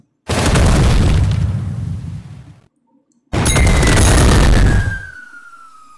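Two loud, booming tank cannon shots in the Tank Heroes mobile game, each a heavy blast with a rumbling tail; the second is followed by a rising whistle as the shell flies.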